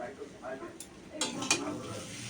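Chow mein being stirred in a pan, with faint scraping and light sizzling that rise into a few sharper utensil scrapes near the end, close and fairly quiet.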